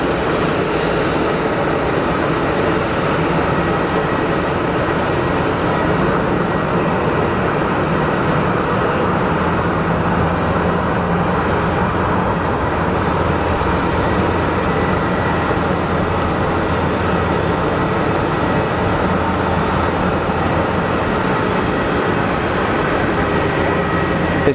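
A Swiss Airbus A330 rolling for takeoff at Geneva Airport: a continuous loud jet engine roar, steady and broad, holding strong and close throughout without a break.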